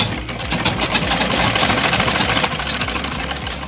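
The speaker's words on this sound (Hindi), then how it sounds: "ये हम आस्तीन की सिलाई कर रहे हैं।" A sewing machine stitches the sleeve of a kurta in a fast, continuous mechanical rattle, close and steady for a few seconds with no talking.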